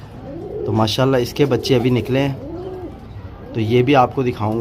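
A teddy pigeon sitting outside with its newly hatched chicks coos in soft, rounded, repeated calls close by, interleaved with someone speaking Hindi.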